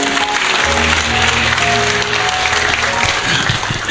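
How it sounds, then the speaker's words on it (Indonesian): A church congregation clapping their hands, a steady loud wash of clapping mixed with sustained musical tones underneath, with no clear breaks across the stretch. "Ini sambil tepuk tangan"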